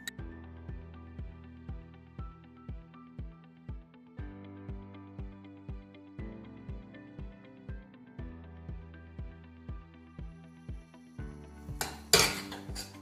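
Butter and flour are stirred as they toast in a pan, with a spoon knocking against the pan in a steady, regular rhythm, a faint sizzle underneath, and a sharper clatter near the end.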